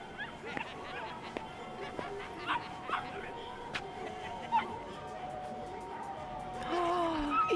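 A dog in the Yakuza Kiwami video game yips, barks and whimpers in short, scattered bursts, with a noisy game soundscape and murmuring voices behind it.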